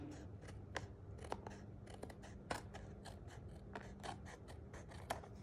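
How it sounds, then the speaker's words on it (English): Snips cutting through card stock for a handmade birthday card, a series of sharp, quiet clicks and crisp snips spaced irregularly over a faint background hum, with no talking. "our snips come in very handy, and I can just cut that right away."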